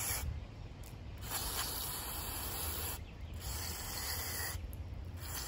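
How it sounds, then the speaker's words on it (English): Mass airflow sensor cleaner sprays steadily onto a Honda Accord (8th generation) sensor, hissing close by in long bursts with brief gaps between them. "Spray it like that to clean it."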